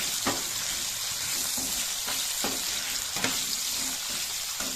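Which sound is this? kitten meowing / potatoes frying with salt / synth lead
potatoes frying with salt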